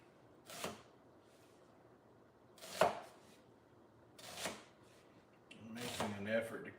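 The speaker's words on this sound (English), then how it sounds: "I'm making an effort to cut these onions a bit larger than I usually cut my onions" A knife cuts onions into large pieces on a board, giving four separate chopping knocks spaced a second or two apart, moderately close in a quiet kitchen, with a voice at the end.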